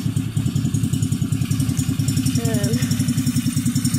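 T-Rex go-kart small engine running after a choke start, a rapid, even putter and clatter at idle heard up close, with a voice briefly speaking over it.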